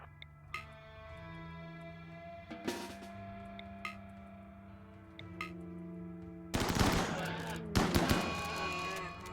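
Assault rifle and shotgun fire in RimWorld crackles in scattered single shots, then erupts into two dense louder bursts near the end, over a low game tone.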